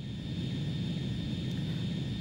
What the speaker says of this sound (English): We're going to take off and we're going to use the X-29